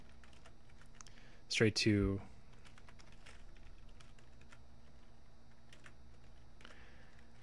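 Rapid, light clicking of a computer keyboard as a Linux terminal command is typed, close and fairly quiet, with brief spoken words near the start.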